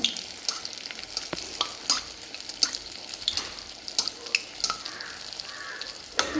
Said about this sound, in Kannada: ಇನ್ನೊಂದು ಕಡೆ ಚೆನ್ನಾಗಿ ಫ್ರೈ ಮಾಡಿ ತೆಗಿತಾ ಇದ್ದೀನಿ